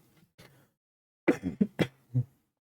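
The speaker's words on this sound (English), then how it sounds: "So now I feel like coughing a lot." A few soft throat sounds, then a burst of four sharp coughs in quick succession, close and fairly loud, with silence around them.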